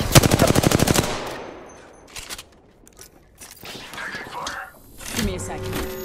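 Rapid automatic gunfire from Apex Legends, a loud close burst of about a dozen quick shots, followed by scattered softer game sounds and effects.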